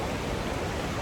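Broad, steady roar of rushing water at Iguazú Falls in Argentina, a dense continuous wash of river water pouring down, constant and fairly loud with no talk.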